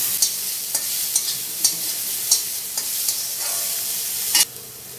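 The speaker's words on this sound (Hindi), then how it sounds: "ये बारीक कटा हुआ प्याज और अदरक डाल के इसको फ्राई करेंगे।" Finely chopped onion and ginger frying in oil in a pan, a steady bright sizzle with regular spoon strokes scraping and clicking roughly every half second, close and alone.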